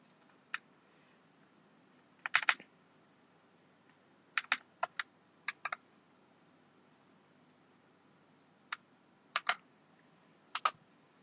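Sparse keyboard taps and short clustered keystrokes on a computer while SQL code is copied and pasted, close and quiet against a low room hum.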